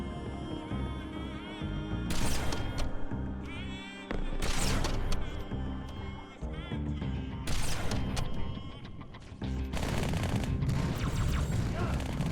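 Rapid gunfire from the Halo 2 video game's Mombasa suite crackles in repeated bursts over a guitar-driven music track, with brief lulls between volleys.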